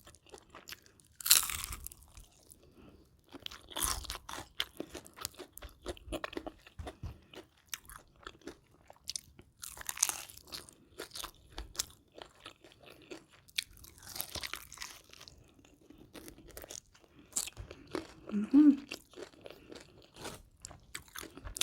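Close, repeated crunching bites and chewing of crispy deep-fried chicken, in irregular bursts over about twenty seconds with short pauses between mouthfuls and no talking.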